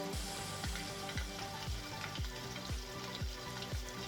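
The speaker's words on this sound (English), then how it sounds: "It's kind of cool how it keeps frying for a half a second after you take it out of the oil." A crappie fillet just lifted from hot oil in a cast iron skillet keeps sizzling, a steady loud crackle with rhythmic soft thumps underneath, with no talking.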